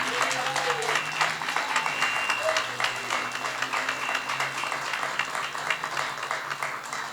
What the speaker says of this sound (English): we could give them a round of applause to thank them for all their hard work this year